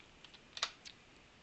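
Quiet computer keyboard typing: a few soft key presses, one slightly louder, close up and spread over about a second.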